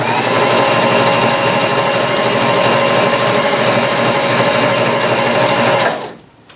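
A Janome HD3000 sewing machine runs continuously at steady speed with a busy mechanical whir and needle chatter for about six seconds, then stops abruptly, loud and close with no talking.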